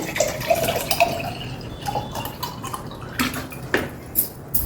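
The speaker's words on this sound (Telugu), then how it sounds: "ఈ కొబ్బరి నీళ్ళు నేను ఇందులో పోస్తున్నాను" Coconut water is poured into a container for a homemade cool drink, giving a close, steady trickle with light splashing and a few faint clinks.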